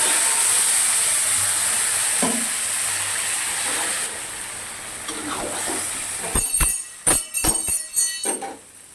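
Boiled arhar dal with carrots poured into a hot pan for sour dal, giving a steady steamy hiss that gives way to several sharp splashing, sizzling bursts near the end.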